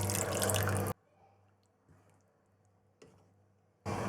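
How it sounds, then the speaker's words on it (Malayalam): Water is poured into a pan of simmering chicken tikka masala, with a loud splashing burst at the start, quiet soft taps and bubbling in between, and another burst at the end. "അതുകൊണ്ട് ഞാൻ അല്പം കൂടെ വെള്ളം ഒഴിച്ചു കൊടുക്കുകയാണ്."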